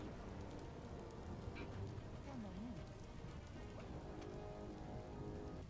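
Steady rain falls in the video game Biomutant, a dense, even hiss of drops that holds unbroken and fairly loud from start to end, with no voices.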